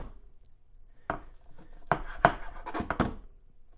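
A knife chops bacon on a cutting board in a handful of sharp knocks, sparse at first, then a quick cluster of firm cuts near the end.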